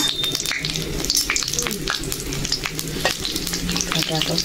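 Bay leaf, cardamom and dried red chilies frying in hot oil for khichdi give a steady, close crackling sizzle with stirring scrapes throughout and a faint voice in the background.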